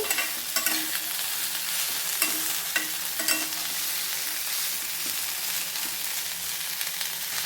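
Salted cauliflower curry fries in a pan and is stirred, giving a steady close sizzle with a few sharp spoon scrapes and clinks early on.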